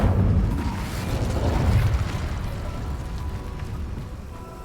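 An Incendio fire spell in a video game goes off as a loud booming blast. The burst swells in the first two seconds, then trails off into a rumbling decay, and nobody speaks over it.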